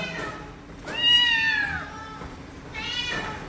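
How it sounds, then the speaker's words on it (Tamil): Mother cat and kitten meowing at home, a long drawn-out harmonic meow in the middle followed by a shorter second meow near the end, fairly close and clear against quiet background. "அங்கே அம்மா பூனை கத்துது இங்கே குட்டி பூனை கத்துது"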